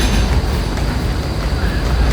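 Train at a station in Ghent, a dense continuous rumble and clatter of rolling wheels and carriages, loud and close with no voices standing out.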